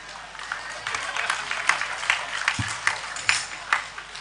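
Clapping from an audience at a talk, a steady patter of many hands with sharper individual claps standing out at a moderate distance, filling the whole stretch.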